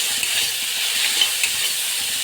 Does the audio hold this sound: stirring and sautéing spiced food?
yes